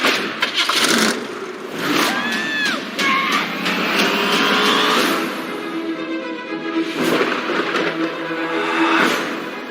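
A station wagon engine cranks and catches, then idles with a rough, uneven rumble, punctuated by clanks and bursts of mechanical noise close by.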